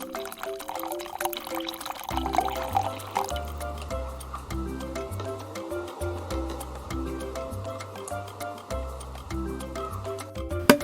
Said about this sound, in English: Pour the solution inside the bottle.